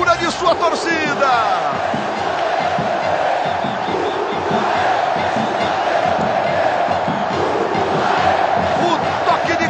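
A large football crowd roars and chants in a stadium during a Série B match between Bahia and Vasco, a dense sustained cheer that swells at the start, with a commentator speaking over it.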